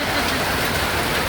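Heavy rain falls in Cibodas in the Puncak area, a dense, loud, continuous hiss with no break across the short stretch.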